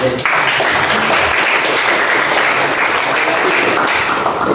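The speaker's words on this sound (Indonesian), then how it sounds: "Tepuk tangan." Students in a high school coding class applaud a classmate, a dense and steady burst of clapping that fills the room loudly from start to finish.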